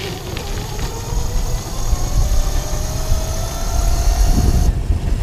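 The motor of a Ridekick power trailer pushing a Gary Fisher bicycle drones steadily under full throttle, a rough rumbling hum with a faint rising whine and wind buffeting, continuous and close.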